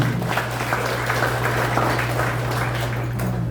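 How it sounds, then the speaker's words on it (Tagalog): A church congregation claps in praise to the Lord, a dense, even wash of applause held at steady loudness throughout, with a low hum underneath and no voices. "Palakpak po sa Panginoon"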